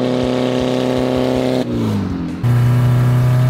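A car engine running on acetone fuel roars at high revs, holding a steady loud tone, dipping briefly and then surging back up, close by.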